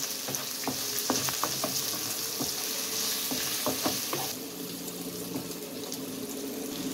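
Peppers and beef frying in a pan for a soda-tenderized vegetable kavurma as salt, cumin, black pepper, allspice and chili flakes go in; steady loud sizzle with repeated clinks and scrapes of stirring, no talking.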